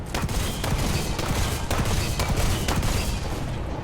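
Rapid, sustained cannon fire from the OTO tank in War Thunder, shells pounding out continuously and loudly with dense, overlapping booms and no pauses throughout.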